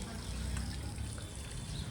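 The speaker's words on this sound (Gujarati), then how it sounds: "પાણી આવી ગયું છે, પાણી ભરે છે" Water is filled into containers at home, a soft, continuous trickling pour heard at moderate distance for a couple of seconds.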